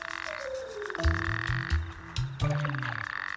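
A male toad in the Arabian desert calls using its expandable throat sac, giving a close, loud series of pulsed croaks in quick bursts that stop and restart several times.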